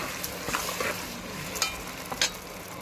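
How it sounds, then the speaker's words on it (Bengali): Mutton spices with added water are stirred in a pan, a steady close sizzle broken by several sharp scraping strokes of the spoon against the metal. "মশলা কষানোর জন্য পরিমাণ মতো জল দিয়ে দিলাম। ভালো করে নেড়ে দেবো।"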